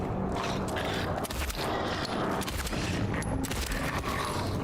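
Gunfire in the 2024 remake of Silent Hill 2, a loud, dense barrage of blasts and rattling impacts that fills the whole stretch with no pauses.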